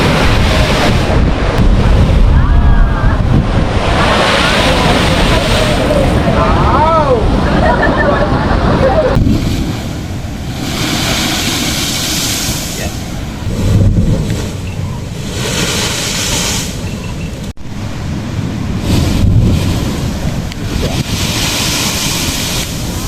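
Sea water surging and spraying from the Hummanaya blowhole at Kudawella on the Sri Lankan coast, with crashing surf and heavy wind buffeting the microphone; someone talks over the continuous roar of the waves.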